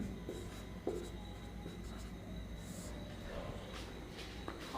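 Marker or chalk scratching across a board during a chemistry lesson on naming cyclic compounds, faint scattered strokes over a low room hum, with no talk.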